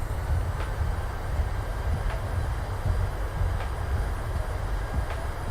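Reverse thrust from a PMDG Boeing 737-700 after touchdown in a flight simulator: a steady, loud, broadband roar and rumble holding evenly throughout the landing rollout.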